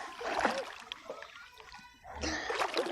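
Water splashes at sea as someone dives in, with a splashy burst early on and a second rougher surge of churning water later, heard against a quiet outdoor background.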